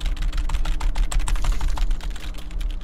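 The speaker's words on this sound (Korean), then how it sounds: "아 일단은 옆에 있는 키보드 꺼쓰자." A computer keyboard clatters under rapid continuous typing, dense overlapping keystrokes close up and loud for a few seconds, with no talking.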